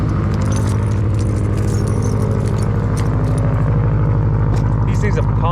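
A Subaru STI idles loud and close after a cold start, its rough rhythmic engine pulse steady throughout, with a voice talking over it.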